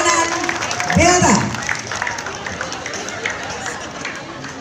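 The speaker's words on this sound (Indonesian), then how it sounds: "Kita sambut dengan tepuk tangan yang meriah penampilan dari Satuan Pengamanan Delta." Audience applause greets a security team's display at an anniversary celebration of a Yogya store, a burst of clapping and crowd noise near the start that fades into busier background commotion.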